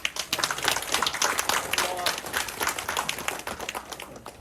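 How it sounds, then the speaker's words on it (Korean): Audience members at a book report contest award ceremony clap for the chairman, a loose, uneven patter of hands with some distinct sharp claps that slowly thin out, with a faint voice underneath. "우리 김윤환 회장님한테 큰 박수 한번 보내주십시오"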